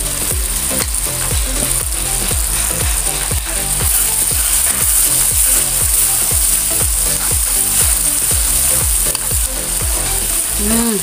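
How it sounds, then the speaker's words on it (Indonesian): Blended spice paste for Padang sauce sautés with garlic and onion in a hot pan, a loud continuous sizzle broken by a regular scraping rhythm of stirring, close and alone. "Kita tumis bersama bawang bombay tadi."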